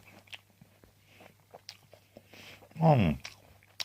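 A crunchy apple from an organic no-dig allotment garden is bitten once with a loud crisp crunch, followed by soft, close chewing sounds.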